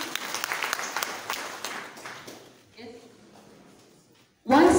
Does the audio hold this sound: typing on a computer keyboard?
no